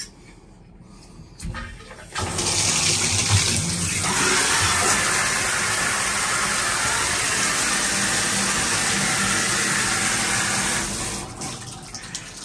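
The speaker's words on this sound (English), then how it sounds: "we are going to check the water pressure" Hotel shower water gushes on abruptly and runs as a steady loud hiss for several seconds, then cuts off, with faint handling noise before and after.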